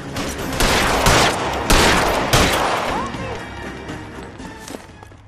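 Bursts of gunfire in the L.A. Noire video game during a pursuit, a rapid volley of loud shots up front that fades into lingering echoes over background game sound, with voices present.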